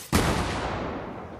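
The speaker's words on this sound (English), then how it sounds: "we have somebody on this side who's shooting a mammoth pistol" A single loud, booming Mammoth Pistol shot from the Fortnite video game, a sudden blast that rolls out into a long, fading echo.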